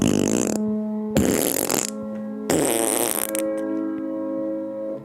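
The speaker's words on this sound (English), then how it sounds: "That was a fart minor." Three loud, close fart sounds come in quick succession, each a buzzy, pitched burst, with the last one trailing into a sustained humming tone, as if the pitches were meant to form a minor chord.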